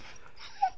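A dying dog whimpers in the horror game Darkwood, giving a single short, high whine near the end of an otherwise quiet stretch.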